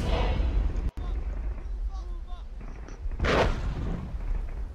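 Bombardment explosions in the World War I game Warfare 1917: a sharp blast early on, then a heavy rumbling boom a few seconds later, mid-distance, over steady battlefield background noise.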